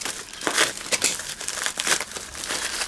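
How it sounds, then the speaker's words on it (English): Plastic packaging around a packet of screws is pulled open up close, giving a run of crinkling rustles and sharp crackles in uneven bursts. "I'm still unwrapping"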